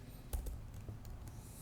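Quick, faint keystrokes on a computer keyboard come in a short irregular run of clicks as an email address is entered.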